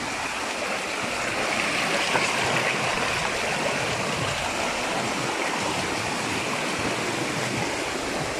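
Water rushes and burbles continuously, a close, steady stream flowing with a constant hiss and no voices.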